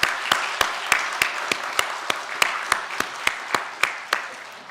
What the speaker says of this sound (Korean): 우리 박수하겠습니다.